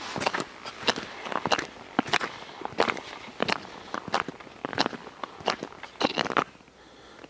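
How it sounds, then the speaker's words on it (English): Crunching footsteps with ice grips biting into ice, a steady walking rhythm of sharp, gritty scrapes close by, with no talking. "they're really effective on this ice, as I walk"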